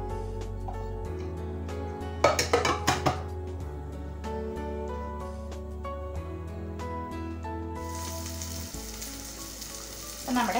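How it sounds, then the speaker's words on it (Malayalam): Cauliflower grills in a pan for a starter dish, its soft sizzle running under background music and growing brighter and louder toward the end. "നമ്മുടെ കോളിഫ്ലവർ രണ്ട് ഭാഗം നന്നായിട്ട് ഗ്രില്ലായി കുക്കായി വന്നിട്ടുണ്ട്."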